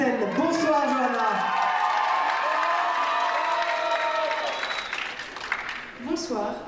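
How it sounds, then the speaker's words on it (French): An audience at the Miss Ronde France 2015 pageant applauds and cheers a contestant, a sustained wash of clapping and crowd noise that fades toward the end, with a voice speaking over it. "Applaudissez donc Claudia Vast."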